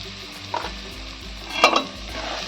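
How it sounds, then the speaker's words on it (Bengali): Prawns for potol dorma sizzle in oil in a pan while a spatula stirs them, with a couple of scraping strokes over a steady close frying hiss. "দিয়ে ভালো করে আমি নেড়ে নেব দিয়ে আরও কিছুক্ষণ আমি কষাবো"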